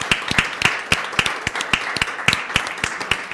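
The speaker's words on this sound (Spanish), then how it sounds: "gracias un a aplauso" An audience at a cultural talk with a Spanish artist applauds steadily, a close, dense run of sharp hand claps lasting the whole stretch, with no speech over it.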